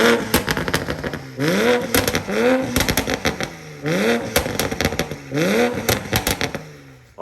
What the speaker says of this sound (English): Y'all heard that first start. That thing is just as loud as my AWE.